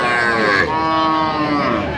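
A cow with her calf at a cattle market lows in a long, loud moo with clear harmonic tones, lasting nearly two seconds amid a busy crowd murmur.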